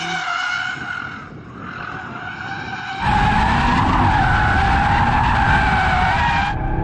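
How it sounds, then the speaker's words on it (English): An Audi RS3 drifts with its tyres skidding in a continuous loud screech, which swells louder about halfway through and holds over steady engine noise before cutting off near the end. "I'm in an Audi RS3, dum dum, and I'm trying to drift it carefully"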